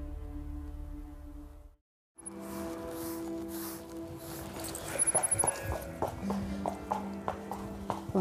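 A horse walks with steady, close clip-clopping hooves, preceded by a low droning tone that cuts off abruptly. Faint voices and some brighter tonal sounds mix in as the hoofbeats continue.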